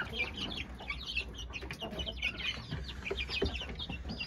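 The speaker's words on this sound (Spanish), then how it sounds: "Fíjense que acá tengo 20 pollitos" Twenty chicks in a spacious cage for raising hens, peeping and chirping continuously in a dense, close chorus with small clucking bursts and no talk over them.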